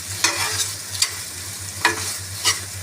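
A mayonnaise and tomato sauce mixture is stirred in a pan, with four or five scraping strokes over a steady soft sizzle and a low hum beneath.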